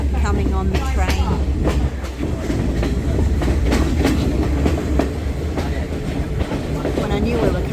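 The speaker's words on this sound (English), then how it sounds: "So we're on the train, as you can see, after all that kerfuffle." Steady loud rumble and clickety-clack of a train in Sri Lanka on the Kandy line, heard from inside a carriage, with continuous rail noise and repeated wheel clicks throughout.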